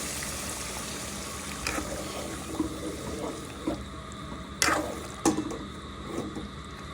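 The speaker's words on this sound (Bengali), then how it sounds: "দিয়ে দিব জল" Water is poured into a pan of hilsa fish curry with potato and eggplant, a soft running gush over a quiet kitchen background, broken by a couple of brief splashy bursts.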